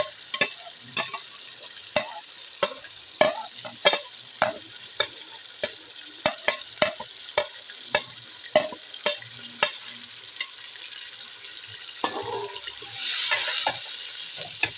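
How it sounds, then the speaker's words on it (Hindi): Tomatoes and green chillies frying in a pan for chicken pulao, a loud continuous sizzle punctuated by regular sharp spoon strikes and scrapes roughly every half second, ending in a brief louder hiss, close and without talking. "साथ ही इसमें हम डाल देंगे टमाटर और हरी मिर्च।"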